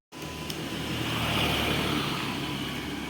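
Steady road traffic passing by a village road, a continuous broadband roar of car and motor vehicle noise without a break.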